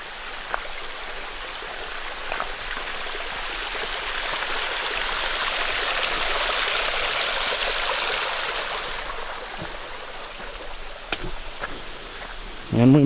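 A small stream rushes over rocks at a trail crossing, a steady broadband hiss of flowing water close by that swells in the middle and eases toward the end, with a few faint knocks of footsteps.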